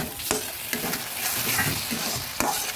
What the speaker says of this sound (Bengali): এবার কাজু আর সর্ষেটা ভালোভাবে কষিয়ে নিচ্ছি।